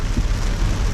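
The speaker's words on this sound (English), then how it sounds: "just capturing how hard it can rain" Heavy rain pours down during a night drive in Macau in a storm, a dense, steady roar of rain drumming on the car with no pauses.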